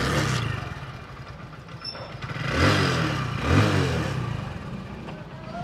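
A motor engine turns over and runs at a steady idle, rising briefly in two revs, close by with no talking.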